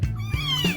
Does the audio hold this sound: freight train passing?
no